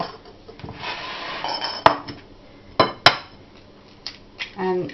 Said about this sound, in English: so just beat your egg.